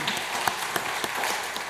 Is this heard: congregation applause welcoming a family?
yes